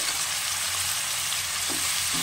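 Ground turmeric, chilli powder, cumin and salt frying together in a pan before tomato and morla fish go in, a close, steady sizzle with faint stirring scrapes and no voices.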